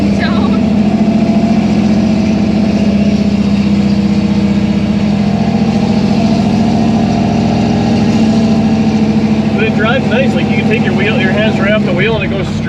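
A nose-high 1964 Chevy II gasser idles loudly and steadily up close, its deep rumble constant throughout with a faint rattle near the end; no talk over it.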